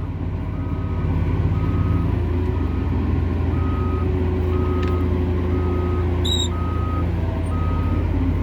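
A wheel loader in reverse gear sounds its backup alarm, a steady series of evenly spaced beeps over a constant low diesel engine rumble, close and loud, with no talk.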